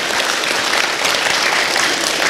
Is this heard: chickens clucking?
no